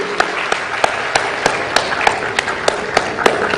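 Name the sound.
applause for award recipients at a ceremony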